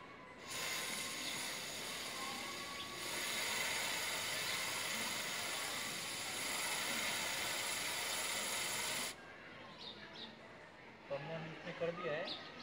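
Chain lube sprays onto a bike chain, a steady loud aerosol hiss lasting about nine seconds, then softer ticking as the chain is turned, with someone speaking faintly nearby.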